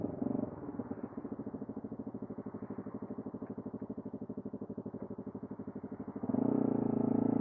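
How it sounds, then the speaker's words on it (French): A Yamaha WRX 125 motorcycle with a Leo Vince exhaust manifold runs with a steady pulsing engine note, close and fairly loud, then revs up to a higher, stronger drone near the end, with no talking. "pour la moto, j'ai une Yamaha WRX 125."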